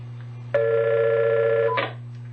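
One long, steady electronic telephone ring sounds clearly for just over a second over a low constant hum, and nobody answers.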